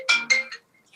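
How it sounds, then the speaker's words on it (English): A phone ringtone goes off during a sports talk show, a short series of bright electronic chimes, loud and close with no talk over it. "I forgot to turn the phone off."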